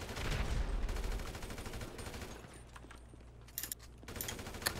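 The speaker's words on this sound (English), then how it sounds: "Oh, I hear shotguns." Shotgun fire in the Drop Zone video game, a dense run of heavy blasts at first that thins into scattered sharper reports and clanks, with no voices over it.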